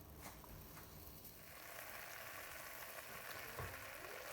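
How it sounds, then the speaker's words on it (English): Soft, steady sizzling of mutton frying in a pan, faint and continuous with a few light stirring clicks. "fry it for at least 5 minutes"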